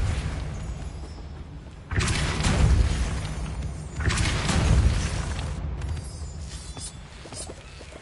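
Depulso spell cast in the Hogwarts Legacy video game, two heavy booming blasts a couple of seconds apart, each a loud rushing burst that fades into a low rumble, with no voices.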